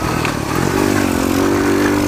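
A pit bike motorcycle runs along a dirt trail, its small engine loud and close with a steady buzzing drone that climbs slightly in pitch as it accelerates.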